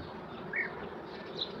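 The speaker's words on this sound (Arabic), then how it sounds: "بنشوف النحل زي ما انتوا شايفين كده قدامكم" Honeybees buzzing over a frame of capped brood and honey lifted from a hive in mid-May, a dense, steady hum close by, with a brief louder pass of a single bee.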